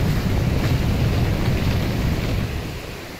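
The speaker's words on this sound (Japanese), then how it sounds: "急な嵐に見舞われております。" A sudden storm at sea aboard a ship in the horror game Ao Oni 3, with loud, dense roaring wind and surging waves that hold steady and then fade slightly toward the end.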